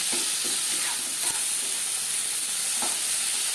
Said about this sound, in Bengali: টমেটো কাঁচা গন্ধ যাওয়া পর্যন্ত নাড়াচাড়া করে দেবো